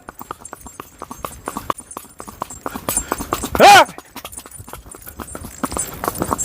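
A Sindhi mare walks with a steady rhythm of hoof clip-clops, close and fairly loud, and a voice calls out over the steps midway through.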